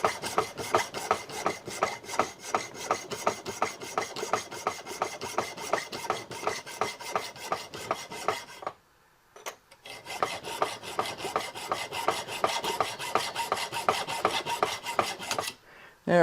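A saw rasps steadily through a metal jewelry medallion, a dense close-up grinding stroke with a brief pause midway and another near the end.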